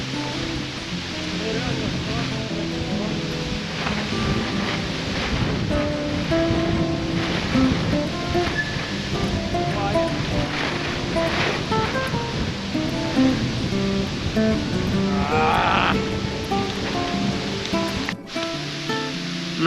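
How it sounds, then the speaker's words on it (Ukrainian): Steady, gusty wind roars across the microphone for the whole stretch, a broad rushing noise with faint speech buried underneath. "Такий коротше вітер."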